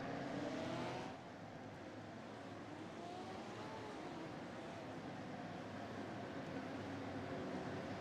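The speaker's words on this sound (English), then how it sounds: "You know when it's a Porsche that's flying by." A Porsche GT3 Cup race car screams past in a sim racing game at Zandvoort. A loud burst of engine noise in the first moment drops to a steady, droning engine note that continues underneath.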